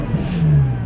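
Ferrari Purosangue 4x4 engine, a powerful unit shared with the 812 Superfast, revs up close by in one loud rising burst that peaks and settles within a second.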